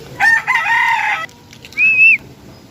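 Young gamefowl chicks crow and cluck nearby: a strained, broken crow of about a second, a short pause, then a clear rising call, loud against a quiet background.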